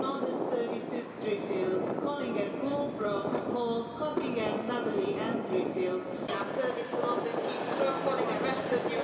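A train sits at a platform at Doncaster station, its low rumble and rolling rail noise running steadily under a busy station background with a voice talking over it.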